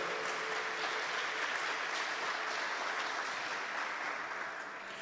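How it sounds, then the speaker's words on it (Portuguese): Sustained applause from a church audience during a talk on the treatise of Marian slavery, a dense, steady wash of clapping that fills the whole stretch and eases slightly at the end. "Pode aplaudir também, pode aplaudir."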